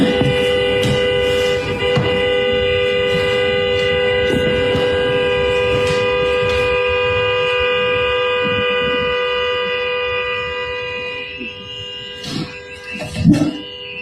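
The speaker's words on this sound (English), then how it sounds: "I hear a lot of damn horn blowing going on." Steady, continuous car horn tones blare for many seconds on a Minneapolis street with layered pitches, several horns sounding at once, with a brief louder burst near the end.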